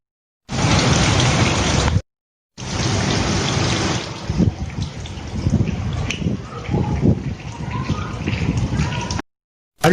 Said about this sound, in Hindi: देखिए कराची में बारिश हो ही गई आखिरकार।